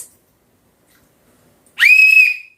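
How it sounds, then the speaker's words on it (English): A tour guide's single sharp whistle rings out once, loud and steady for under a second, after near silence. "if you hear me whistle once like this"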